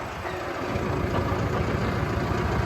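A tractor engine runs steadily at a riverbank while being loaded onto a river boat, a loud, continuous low diesel rumble close by, with no voices.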